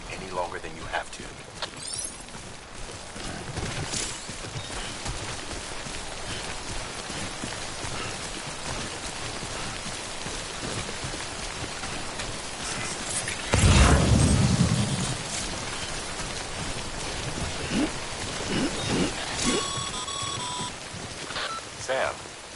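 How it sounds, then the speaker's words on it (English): Steady rain, timefall in the video game Death Stranding, pattering on surfaces throughout, joined midway by a loud low rumbling burst, with a voice speaking over parts of it. "Don't stay out in the rain any longer than you have to."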